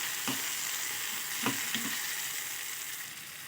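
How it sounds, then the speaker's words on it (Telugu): Small chopped tomato pieces frying in a pan, a steady hissing sizzle with a few soft stirring knocks, close and moderately loud, with no voices. "మనం టమోటా ముక్కల్ని కూడా వేసుకున్నాము ఇలా చిన్న చిన్న కట్ చేసుకొని వేసుకోవాలి టమాటాలని దీనిలో కూడా ఒక రెండు నిమిషాలు కొంచెం వేగనిద్దాం"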